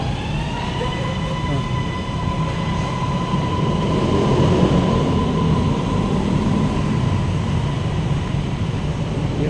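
An underground metro train runs through a Thai subway station, a steady loud rumble with droning tonal whine throughout, close and continuous, with faint talk beneath.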